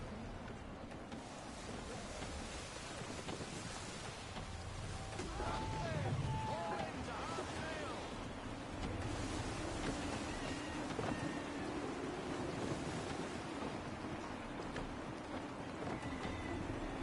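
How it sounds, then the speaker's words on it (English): Gusty wind in Assassin's Creed 3 while sailing through coastal shallows: a steady, loud broadband rush with swelling gusts and a low rumble running through the whole stretch. "Gusty winds can be difficult to manage."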